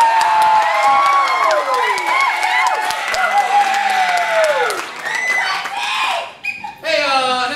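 A school comedy improv show audience claps, cheers and whoops loudly for the red team, with voices shouting through the sustained roar before it briefly dips and swells again near the end.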